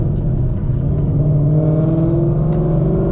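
A Whipple-supercharged S550 Mustang GT driving on city streets, a steady low engine rumble and drone from inside the cabin with a faint rising whine, no talking.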